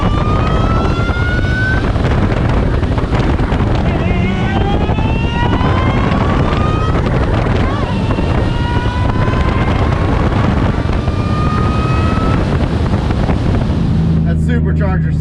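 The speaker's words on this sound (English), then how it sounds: "Supercharger sounds amazing, don't it?" Supercharged 2009 Ford Mustang GT race car with a five-speed manual, engine roaring loud and close as it revs repeatedly through rising pitch sweeps, with wind buffeting throughout.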